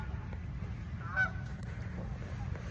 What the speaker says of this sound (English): Chilling with the ducks